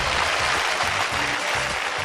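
A studio audience at a Telugu television game show claps in a dense, sustained burst of applause over a low, steady musical hum.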